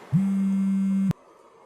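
A single steady electronic tone rings for about a second, loud and clean, then cuts off abruptly into quiet room hiss.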